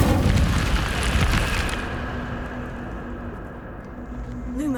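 Incendio fire spell cast in Hogwarts Legacy, a loud fiery burst at the start that roars and then decays into a lingering crackle and rumble, with faint game ambience afterward.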